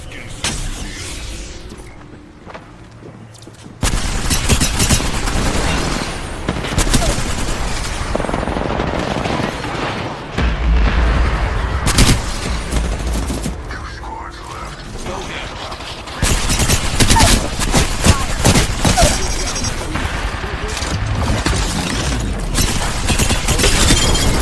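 Rapid bursts of smart-bullet gunfire from an Apex Legends match crackle loudly and continuously, with dense repeated shots and mechanical clatter running through most of the stretch alongside game effects.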